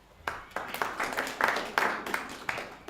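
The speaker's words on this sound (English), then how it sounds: "Round of applause, please." A conference audience at a diversity workshop gives a round of applause, a dense spread of overlapping claps of moderate loudness with slight swells, with no talk over it.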